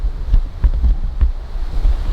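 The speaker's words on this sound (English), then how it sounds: "Here it's blowing pretty strong. Wind's coming from the northwest." Strong northwest wind buffeting a Rode VideoMic Pro Plus on a GoPro 10, a steady low rumbling roar with gusty thumps throughout, no talking.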